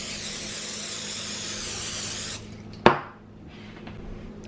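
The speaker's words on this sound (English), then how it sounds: "I'm gonna go ahead and spray this with some cooking spray." Cooking spray hisses steadily onto a baking sheet for about two seconds, then stops, followed by a sharp clatter as the can or sheet is set down in a quiet kitchen.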